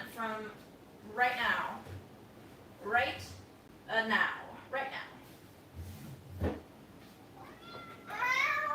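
A house cat meows several times in a row, each call rising and falling, fairly close and clear, with pauses between the calls and no talking over them.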